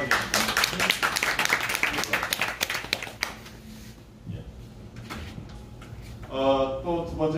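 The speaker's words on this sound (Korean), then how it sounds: "박수 주십시오" Seminar audience clapping in welcome for a panel guest, a burst of close, dense handclaps for about three seconds that thins out into scattered claps, followed by quieter room sound and someone speaking.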